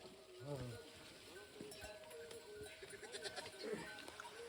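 Goats bleat faintly in a village setting as grass is brought to them, a few short calls amid soft rustling and background chatter.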